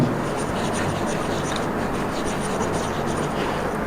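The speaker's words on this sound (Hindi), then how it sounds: "तो हम इधर लिखते हैं" A pen writes out a matrix math equation, giving a steady, close scratching that runs without pause over a faint background hum.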